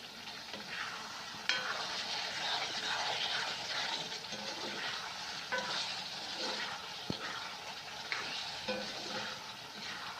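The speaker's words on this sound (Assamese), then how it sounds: "নিমখ দিয়াৰ পাছত আৰু অলপ ভাজিব লাগিব।" Goat mutton frying with salt in a wok, stirred throughout: a continuous soft sizzle with occasional scrapes and taps of a spatula against the pan, fairly quiet and with no talking.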